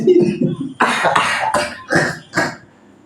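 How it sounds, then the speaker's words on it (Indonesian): Several rough coughs and throat clearings in a quick uneven series, close and fairly loud, with a short voiced sound at the start. "Maaf, saudara, saya batuk."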